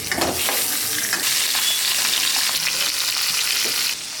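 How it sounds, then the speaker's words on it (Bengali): A fish head fries in hot mustard oil in a wok with a loud, dense, crackling sizzle. Scattered pops and spatters run through it without pause, and no voices are heard. "মাছের মাথাটা ভাজা হইতে থাকুক"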